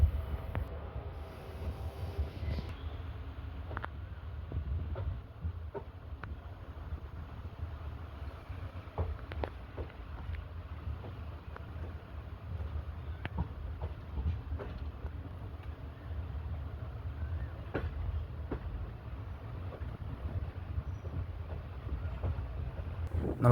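A passenger train pulls out of Kollam station, a low, steady rumble with scattered clicks and knocks from the wheels, heard from on board and mixed with wind buffeting.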